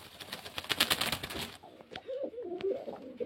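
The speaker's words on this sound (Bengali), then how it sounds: "অল্প বয়সের পায়রা।" Young pigeons cooing at close range, a soft warbling call repeated a few times after a brief burst of broadband rustling and flapping, with occasional clicks.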